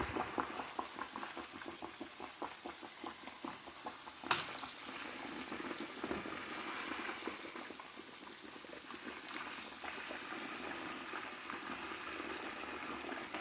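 Garlic and herb pork chops frying in a pan, a faint steady bubbling sizzle with one sharp click partway through, quiet and continuous with no voices.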